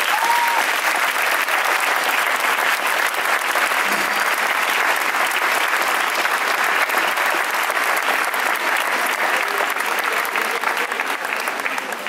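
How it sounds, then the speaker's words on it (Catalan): A crowd at a Sant Antoni bonfire naming ceremony in Canals breaks into loud, sustained applause, dense continuous clapping that holds steady for the whole stretch. "Un fort aplaudiment, per favor"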